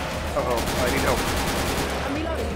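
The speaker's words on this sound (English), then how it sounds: "I was shooting through the wall" Gunfire in Left 4 Dead 2, shots fired through a wall: a dense, continuous wash of rapid automatic fire, moderately loud and steady throughout, with faint game sounds mixed underneath.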